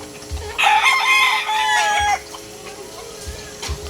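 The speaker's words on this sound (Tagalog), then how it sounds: "Ganda ng mga manok dito." Roosters crow loud and close, a couple of long calls in quick succession, one a dark-legged bird, with softer clucking from nearby hens around them.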